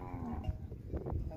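Cattle mooing on a drought-stricken farm in Brazil's Northeast: a low, close moo rising over background rustle, brief and fairly loud.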